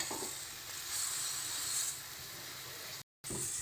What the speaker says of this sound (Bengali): মশলাগুলোর গা থেকে যতক্ষণ না একটু তেল ছাড়ছে, ভালো মতন কষে যাচ্ছে, ততক্ষণ কিন্তু এগুলোকে ভালো করে কষিয়ে নিতে হবে।